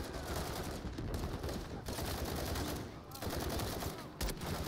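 Steady, distant-sounding gunfire in the video game Call of Duty: Modern Warfare 3, a dense continuous wash of shots and battle noise at low level without clear gaps.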